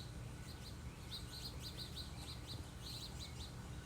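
Birds in a Florida garden sing in early summer, repeated bright chirps and short trilling phrases at a moderate distance over a quiet, steady outdoor background.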